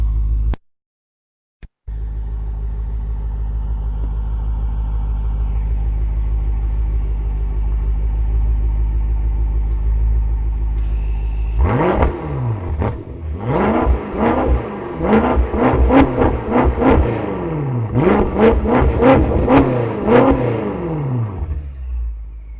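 A BMW M5 Competition engine idles with a deep steady drone, then revs hard repeatedly, the exhaust rising and falling in loud, rapid bursts.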